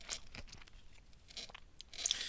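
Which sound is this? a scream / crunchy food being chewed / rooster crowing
crunchy food being chewed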